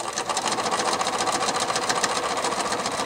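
A sewing machine stitches continuous bias binding onto a quilt, a steady, close, rapid mechanical chatter running without a break and with no voices.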